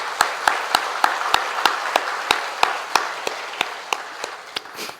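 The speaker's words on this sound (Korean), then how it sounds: "우리 감사하는 마음을 박수에 담아서 축복하고 격려하겠습니다" A church congregation applauds during a Sunday service, a steady wash of clapping with sharp, evenly spaced claps cutting through it before it fades out.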